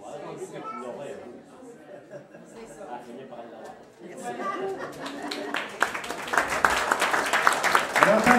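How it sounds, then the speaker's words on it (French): A crowd at a Thanksgiving gathering bursts into applause for a 67-year-old woman, the clapping swelling over the last few seconds after a stretch of chatter and speech in the room. "Alors bravo, on applaudit Mme Christiane"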